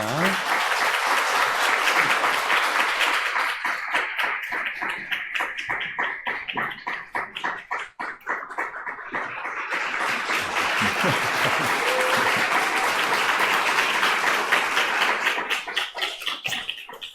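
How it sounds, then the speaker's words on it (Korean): Congregation applause welcoming a visiting pastor, the Canadian president of Trinity Western seminary, at a Korean Sunday church service, loud and sustained, briefly thinning into sparse claps midway before swelling again. "우리 큰 박수로 맞이하겠습니다"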